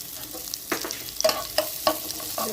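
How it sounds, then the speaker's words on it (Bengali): Chopped garlic fries in melted ghee, a close, steady sizzle broken by several short scraping stirs of a spatula against the pan, with no voices. "গলানো ঘির মধ্যে দিয়ে দিচ্ছি রসুন কুচি। রসুনটা খুব ভালোভাবে আগে ভেজে নিচ্ছি।"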